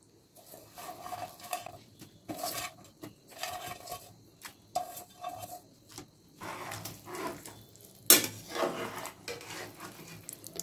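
Cauliflower Manchurian being stirred in a pan of reducing sauce: repeated scraping and light clinks of a utensil on the pan in irregular strokes, close and moderate, with no voices.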